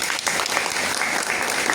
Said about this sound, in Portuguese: Queria que vocês batessem uma salva de palmas para a Ana